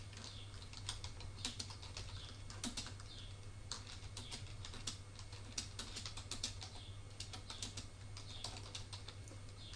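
Steady typing on a computer keyboard, a quiet, close run of clicking keystrokes in irregular quick bursts over a low electrical hum, with no speech.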